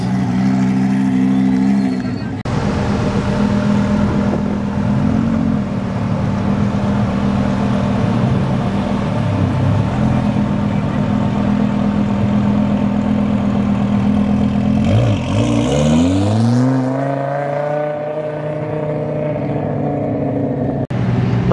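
A Lamborghini Aventador SV and an Audi R8 run on race gas in a race, their engines droning loudly and steadily, then a sharp rising rev sweep near the end as one accelerates hard past.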